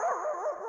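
A man imitates a dog with a short, sharp bark-like yelp, close and clear and alone, lasting under a second.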